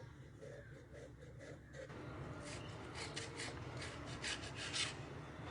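Boiled potatoes rasp against a kitchen grater in a home kitchen, a faint, quiet scraping that turns into steady repeated grating strokes, close and without speech.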